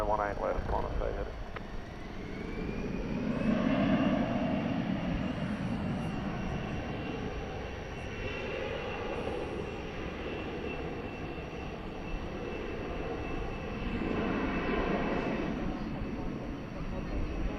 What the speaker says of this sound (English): American Flight 577 is going to Denver. It's an Airbus A321.